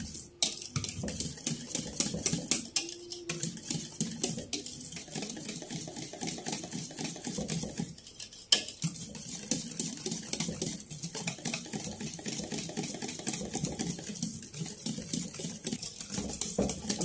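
Custard thickened with cornflour being stirred in a pan on the stove, a fast, continuous clatter of spoon scraping against metal that runs steadily throughout, with brief pauses.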